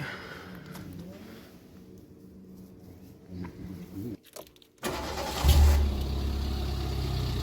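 Citroën AX fitted with a golf cart engine, a cranking scrape followed by the engine catching and settling into a loud, steady low idle.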